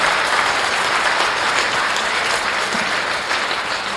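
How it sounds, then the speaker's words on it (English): A crowd applauds youth exhibitors at a breeding gilt livestock show, a loud, continuous wash of clapping from many hands, steady throughout with no voices on top. "Let's give these kids one more round of applause."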